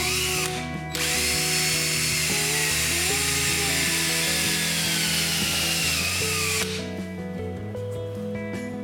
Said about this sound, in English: Then using a drill, I'll drill a small hole.